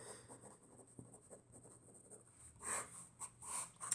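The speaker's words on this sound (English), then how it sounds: "I'm going to write this down so I remember." Quiet scratching of a pen writing on paper, soft continuous strokes that swell into louder bursts in the last second and a half, close and alone without speech.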